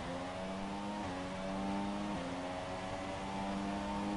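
An F1 car in F1 2017 brakes hard into turn 1 at Belgium on the final lap. Its engine note holds steady, then drops in stepped downshifts, loud and close, with no talking.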